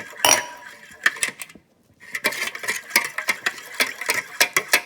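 Milk is mixed into batter in a bowl with a spoon or whisk, producing a series of close clinks and taps against the bowl, with a brief pause before the rhythmic knocking resumes.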